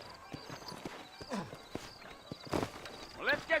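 Horse hooves clip-clop in the Western video game Red Dead Redemption, a run of faint, sharp hoofbeats spaced irregularly while voices talk intermittently over them.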